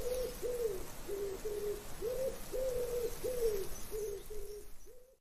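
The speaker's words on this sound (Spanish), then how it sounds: "El canto de las palomas." Doves cooing in a steady repeated series of soft, rounded calls, about ten in a row, clear and fairly close against a quiet background hiss.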